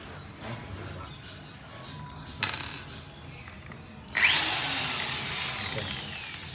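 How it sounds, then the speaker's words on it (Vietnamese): A power drill with a small bit bores into a plastic water pipe for a sprinkler system. Quiet handling noises come first, then a short buzz, then a loud, high whine that slowly fades away. "Đầu tiên thì sử dụng mũi khoan nhỏ trước."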